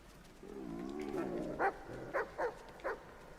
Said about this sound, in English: The dogs are coming.